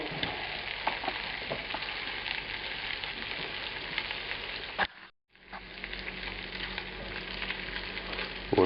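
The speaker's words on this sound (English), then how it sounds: "You want to get some color on this sausage." Lightly smoked pork sausage frying in a pan, a steady dense sizzle with small crackles that cuts out briefly and then resumes, with no talk.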